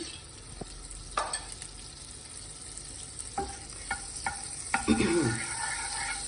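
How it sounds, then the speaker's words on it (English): Butter, one tablespoon, melting in a heating pan while preparing a dessert, giving a soft steady sizzle with a few sharp utensil taps and clicks scattered throughout, and a slightly louder stirring scrape near the end. "I'm going to put the butter to melt, which is 1 tablespoon"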